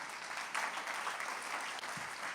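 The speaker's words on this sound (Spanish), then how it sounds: "Le damos fuerte el aplauso al Señor." A church congregation applauds during a sermon, a dense, steady wash of many hands clapping together, heard at a moderate distance with no voices over it.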